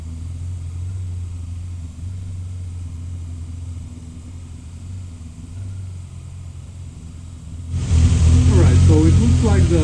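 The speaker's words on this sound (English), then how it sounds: "So let's start the car." Car engine with newly moved temperature sensor and injector o-rings: a low steady rumble, then a sudden louder start near the end that settles into a rough idle, with people talking over it.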